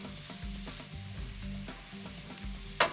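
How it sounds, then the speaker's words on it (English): Onions, celery and garlic sautéing in a pan give a steady close sizzle and frying crackle with occasional stirring scrapes, ending in a brief sharp clatter. "You're just going to saute this lightly till the onions and celery become translucent"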